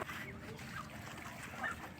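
Faint nasal honks and quacks from a few confined farm ducks come through a quiet, muffled background, brief and scattered.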